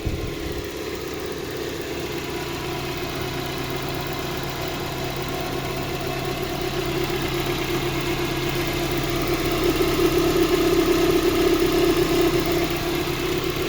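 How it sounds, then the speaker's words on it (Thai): A Toyota car engine idles steadily and smoothly at close range, a low continuous hum with a faint mechanical rattle and no voices. "ตอนนี้ก็เครื่องยนต์ทำงานไปแล้วนะครับ เสียงเครื่องเงียบๆนะครับ"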